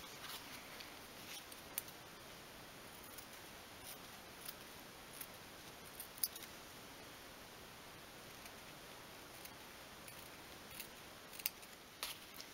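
Scissors snip fabric squares from the corners of bedding for a 1/12th scale miniature single bed, a faint series of small clicks spread over a soft hiss.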